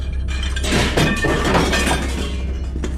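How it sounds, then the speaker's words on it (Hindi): A plate falls and shatters in a kitchen as a horror cartoon sound effect, a loud crash of breaking crockery with scattered clinks lasting a few seconds over a low hum. "ऐसा लगा कि मेरे किचन से कोई प्लेट नीचे गिरकर टूट गया हो।"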